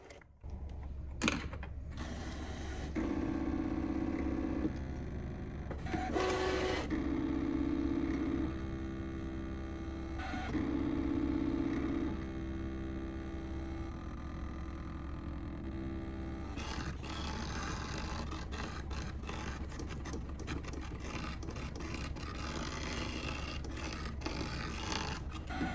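A Brother ScanNCut machine cuts fabric with its blade on a standard mat, producing quiet motor whirs and short stepping bursts at regular intervals over a constant low hum, followed by longer continuous cutting movement.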